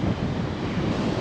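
Sea waves at high tide on the Baja coast of Mexico on a morning, a steady broadband wash of surf close by, mixed with wind buffeting the microphone and no voices.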